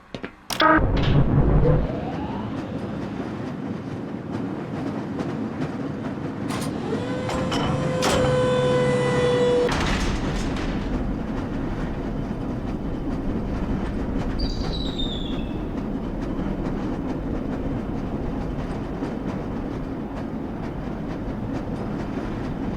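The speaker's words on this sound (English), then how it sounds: "This lever-controlled train will transport you to a location where your training associates are waiting for you." A lever-controlled train in the Black Mesa game starts with a clank and rolls along its track, with rising mechanical whirring and a rapid rattling burst, then a steady rumbling ride with a faint electronic chirp.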